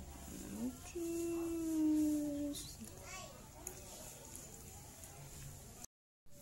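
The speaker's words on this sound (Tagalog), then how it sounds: "Ayan, ang aso namin." A household dog whimpers and gives a drawn-out howl, close by and fairly faint, with scattered background voices and household noise around it.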